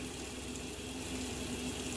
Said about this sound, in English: now when I turn the water on, I get a very steady stream of water